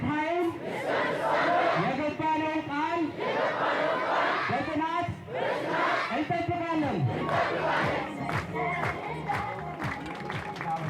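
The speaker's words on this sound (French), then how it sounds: "Pour chauffer la foule, on répète les mêmes incantations" A large crowd at a rally about the Renaissance dam chants slogans in loud, repeated waves of massed voices, with scattered shouts and chatter mixed in.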